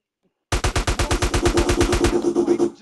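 Rapid burst of automatic gunfire in GTA San Andreas, about fifteen evenly spaced loud shots in a steady rhythm, starting abruptly after a brief silence and trailing into a noisy tail.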